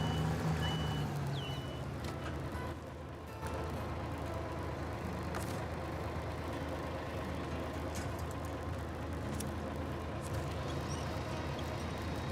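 Steady electronic reversing beeps from a truck in a video game repeat over a constant low engine rumble, with a brief dip partway through.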